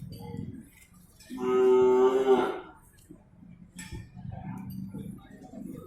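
A single long, loud moo comes from a large imported cow at the Sibreh livestock market in Aceh Besar, lasting about a second and standing out from quieter market bustle and low voices around it.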